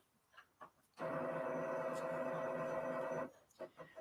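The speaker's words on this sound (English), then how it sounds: "my printer's going to reset" A home printer runs a reset cycle, giving a steady mechanical hum for about two seconds between quiet moments.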